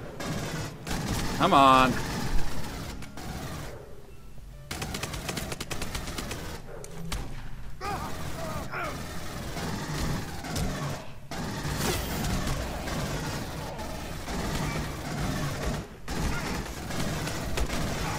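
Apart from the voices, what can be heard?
gunfire in the video game Aliens: Colonial Marines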